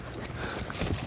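Hooves clip-clop close by as a horse is ridden in a riding lesson, several quick irregular thuds in a short burst with no talk.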